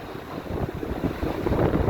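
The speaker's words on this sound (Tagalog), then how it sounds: "So, lakas ng hangin na yun." Strong typhoon wind buffets the microphone in a steady, roaring rush with low gusting rumble, loud and continuous throughout with no voices.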